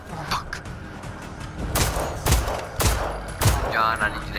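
Shotgun blasts in a tense survival scene, three heavy booming shots spaced about half a second apart, loud and close, with background noise between them.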